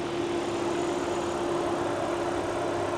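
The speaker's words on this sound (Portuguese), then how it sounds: "pedi para o amigo da partida aqui no motor, para vocês escutarem aqui junto comigo, a picape funcionando" A Chevrolet S10 pickup's gasoline and natural-gas engine idles steadily, a constant droning hum with a low steady tone and no change in pitch, close and fairly loud with no talking.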